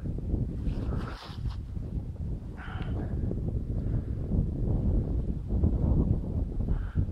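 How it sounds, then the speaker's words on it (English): A breeze blows up a hill toward the coast, heard as steady wind rushing and buffeting close to the microphone, with a few stronger gusts rising and falling. "You've got a breeze coming straight up from there"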